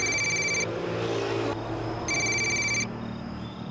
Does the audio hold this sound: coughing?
no